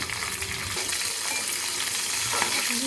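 Cumin, mustard seeds, torn green chilies and crushed garlic frying in oil, a close, continuous crackling sizzle with faint stirring clatter, no voices heard.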